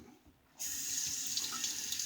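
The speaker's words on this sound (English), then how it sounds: "starting with hot water." Hot water gushes from a faucet into a bathroom sink, starting abruptly after a short quiet moment and then running steadily with a close, hissing splash.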